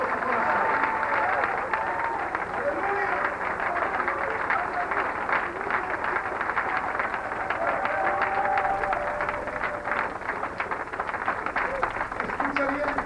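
Church congregation applauds during a sermon, a broad, sustained wash of clapping from a large crowd that continues steadily throughout, with some voices mixed in.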